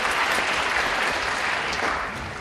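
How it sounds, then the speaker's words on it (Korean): A large crowd of university freshmen at an orientation lecture claps loudly and steadily to welcome a professor, a dense wash of applause that fades a little near the end. "큰 박수로 환영해 주시기 바랍니다."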